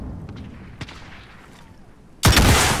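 Gunfire in the video game Call of Duty Warzone, with a few faint sharp cracks early on, then a sudden loud close burst of shots near the end over a quiet background.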